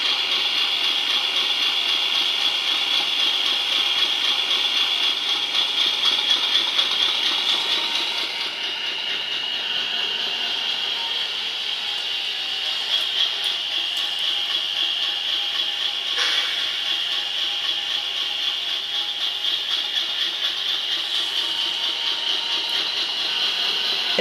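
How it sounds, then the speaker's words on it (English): JLTRT Class 50 model locomotive with its engine sound running steadily as it creeps along a short length of track, a constant hissing, humming drone with a slight dip partway through and no talk. "I think that's warmed up now from the sound of the engine."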